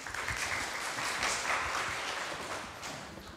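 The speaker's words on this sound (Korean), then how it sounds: "박수 부탁드립니다." An audience at a Seoul AI conference talk claps to welcome a speaker to the stage, a faint, steady patter of many hands that tapers off over a few seconds.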